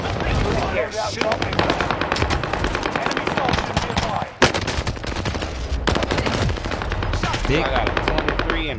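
Video game gunfire rattles almost without pause in rapid, dense automatic bursts, loud and close, while players talk over it.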